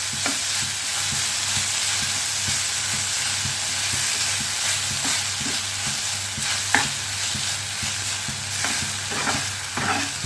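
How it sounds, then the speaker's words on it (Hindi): Chow mein being stirred with vegetables in a hot pan, a continuous loud sizzle with repeated scraping strokes of the utensil at an even rhythm, close up and without talk. "अच्छे से सारी सब्जी में इस चाव को अच्छे से मिक्स कर देना है।"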